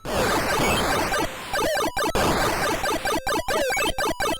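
Zeviouz, an Atari 2600 homebrew clone of the Xevious arcade shooter, playing its dense, harsh electronic sound effects continuously, with brief regular dropouts near the end and no voices.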